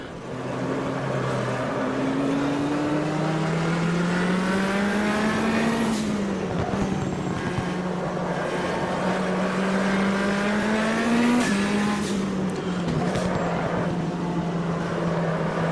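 A race car engine roars through gear changes and long rising revs while lapping Ibarra in the Automobilista sim racing game, loud and continuous with brief tire noise.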